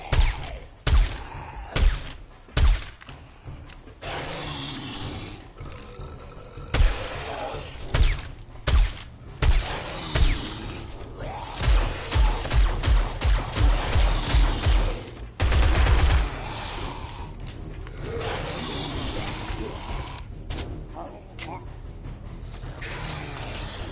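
Gunfire in 7 Days to Die: repeated sharp shots, first spaced apart, then a rapid rattling run of bursts, over steady game ambience, with a voice talking at points.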